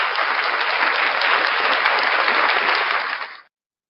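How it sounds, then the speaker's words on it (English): A studio audience bursts into a full round of applause, dense and loud, sustained evenly for about three seconds before cutting off abruptly. "Round of applause for First Amendment shenanigans"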